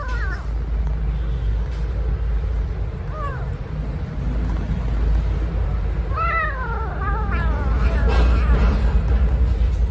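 A hungry rescued baby kitten, found abandoned on the street, meows repeatedly in short high cries, several clustered toward the end, over a steady low rumble with faint background voices.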